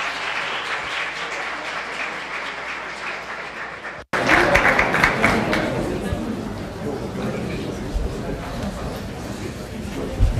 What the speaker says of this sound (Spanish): les pido un aplauso para recibir a los panelistas